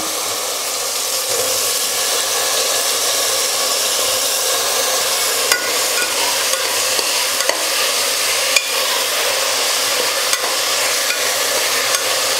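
Chunks of elephant foot yam sauté in hot oil with ginger-garlic paste, a loud continuous sizzle broken by regular scrapes and clicks of a spoon stirring the pan.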